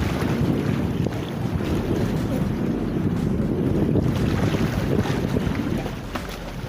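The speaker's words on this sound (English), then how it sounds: "All right, let's just listen to the water." Water lapping and moving on an outdoor getaway, heavy wind buffeting the microphone throughout, a steady low rumbling wash with no talk.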